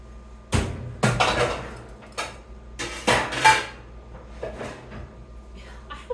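A larger metal pan lifted and rocked on a kitchen stove, giving several sharp clanks and scraping knocks spaced irregularly over a few seconds, close and fairly loud, with quieter handling noises between.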